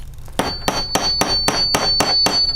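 A tack hammer strikes about eight sharp, evenly spaced metallic taps, close and clear, with a faint ringing tone between blows.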